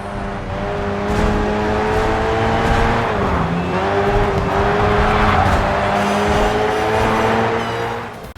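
Race cars in the racing game Grid 2 roar past with high, revving engine tones that shift as the cars corner, while tires squeal and skid throughout, with no voices.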